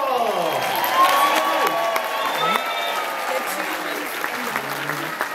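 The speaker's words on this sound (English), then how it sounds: "we'd like to ask you to join us in a big round of applause for the real stars of the show" A crowd at a children's show in Baltimore claps and cheers loudly, with whoops and excited voices rising over a sustained roar of applause.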